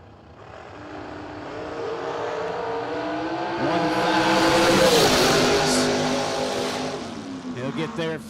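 A black dragster launches down a drag strip at a memorial race, its engine building from a rising roar to a loud, harsh peak before fading into the distance, with an announcer's voice over the noise.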